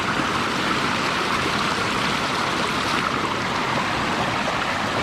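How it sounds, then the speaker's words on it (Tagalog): Water pouring from two large natural springs in a virgin forest, a loud, steady rushing flow that fills the scene without pause and with no voices over it. "Dalawang bukal na malaki."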